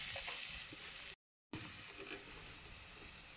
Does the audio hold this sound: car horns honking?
no